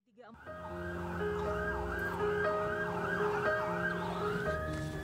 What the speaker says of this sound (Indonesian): Satu persatu ambulans yang membawa tenaga kesehatan korban kecelakaan bus wisata di Bromo Probolinggo tiba di RSBS Jember